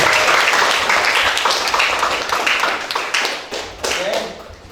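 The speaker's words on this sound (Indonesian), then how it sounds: "Tepuk tangan untuk Yeay." A classroom of students claps hands together after group presentations, a dense, fairly loud burst of clapping with a few voices mixed in, thinning out toward the end.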